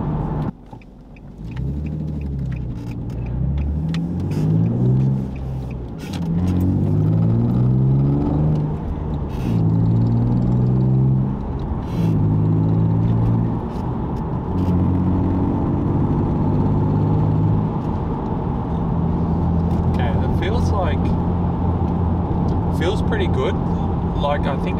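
Infiniti G35 (V35 Skyline) fitted with a throttle controller accelerates from inside the cabin, its engine droning and rising through repeated gear pulls before settling into a steady cruise, while someone talks over it.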